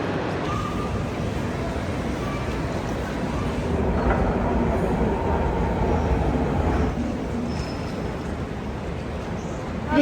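Continuous rumbling of a Berlin S-Bahn commuter train in motion heard from onboard, steady and moderately loud, with faint background chatter.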